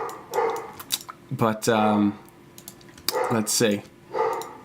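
A dog barks loudly in several sharp bursts nearby, with a person speaking briefly between the barks.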